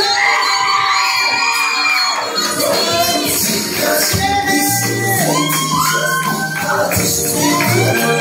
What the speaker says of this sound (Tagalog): Yan lang ba palakpak ng Ultimax Elite?